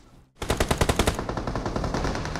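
Machine-gun fire in PUBG Mobile: after a brief near-silence, a loud sustained burst of rapid, evenly spaced shots runs to the end, with no talk over it.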